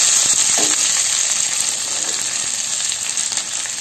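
Chopped leafy greens frying in hot oil with browned garlic, a loud, continuous close sizzle and hiss that eases slightly over a few seconds, with a faint stir early on and no talk.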